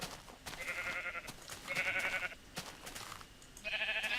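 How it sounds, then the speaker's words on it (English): Sheep in a blocky farming video game bleat in three separate bursts, each a wavering, nasal call, fairly close and clear over a soft background of game ambience. "So I'm still punching sheep at the moment."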